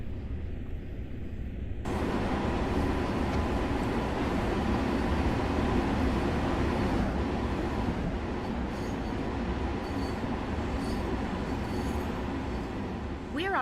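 A Long Island Rail Road M7 electric train in Train Sim World on approach to Country Life Press, a steady loud rumble of motors and wheels on rail with a rising tonal whine, continuous throughout.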